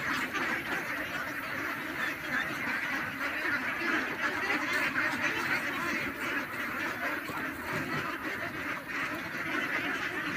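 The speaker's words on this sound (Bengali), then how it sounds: "দেখছেন এখানে হাঁস আর হাঁস, এইভাবেই হাঁসের চাষগুলো হাঁস পালন করে থাকে। ভিতরে প্রচুর হাঁস আর হাঁস।" A large flock of about two thousand ducks on a duck farm set amid wide wetland, many quacking at once in a dense, continuous chorus that stays loud and steady throughout, with no talk over it.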